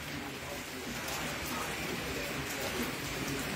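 Heavy rain falling in Pangasinan, a dense, steady hiss of downpour without pause, fairly faint and even throughout.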